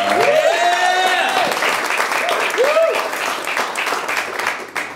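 Audience applause in a theater pub after a live radio interview, a dense wash of clapping mixed with whoops and whistles that fades slightly toward the end.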